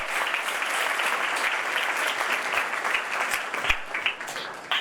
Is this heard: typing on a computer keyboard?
no